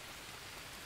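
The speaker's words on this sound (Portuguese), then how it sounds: "Chovendo pra caramba, cara, legal." Steady, dense rain pours down in the Amazon jungle of the survival game Green Hell, a continuous close hiss of drops with no breaks and no voices.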